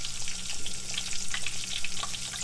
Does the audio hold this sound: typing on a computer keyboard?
no